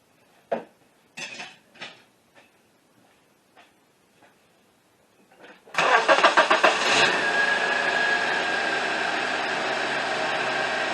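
A few clinks and taps, then a 2005 Honda Accord 2.4 engine cranks and catches after an alternator replacement, settling into a steady, fairly loud idle close by.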